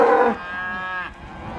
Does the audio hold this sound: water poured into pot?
no